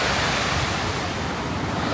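Constant roar of sea waves washing in at Subic Bay, loud and close, with wind noise buffeting the microphone and no voices.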